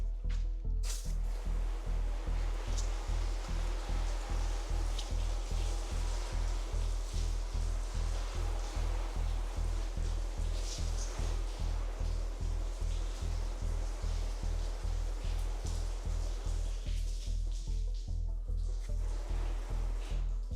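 Water spray rinses a car after a wash with Armor Detail Supply Decon soap, a steady close hiss of running water pulsing rhythmically throughout with no talking.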